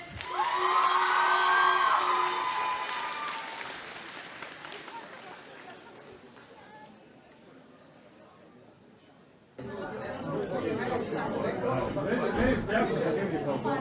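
Audience at a cosplay contest applauding and cheering, loud at first with a crowd roar, fading to scattered clapping, then swelling again with dense clapping and chatter; a voice speaks over the start.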